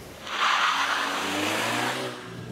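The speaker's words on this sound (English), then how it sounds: "we put it here to the sports mode. Then the RPMs go higher." A 2022 VW Polo GTI facelift in sports mode revs up, its engine note rising and holding at higher RPM with a broad loud roar, steady for about two seconds before easing off slightly.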